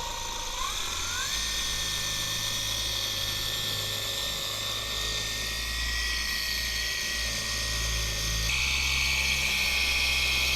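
Ryobi cordless orbital polisher running at nearly 5,000 RPM, held one-handed while polishing a boat at anchor: a continuous loud buzzing whine with a low droning hum, its pitch shifting slightly as the load changes.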